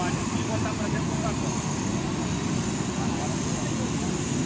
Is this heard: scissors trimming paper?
no